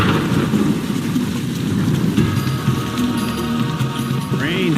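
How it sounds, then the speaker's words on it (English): Steady rain pours down outdoors during a survival competition challenge, a loud continuous hiss that fills the whole stretch, with some low rumble and scattered background voices mixed in. "Rain's starting to really pick up."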